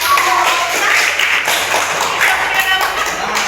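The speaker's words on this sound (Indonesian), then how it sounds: "Ya, tepuk tangan." A classroom of people claps hands together in a dense, steady patter, close and lively for a few seconds.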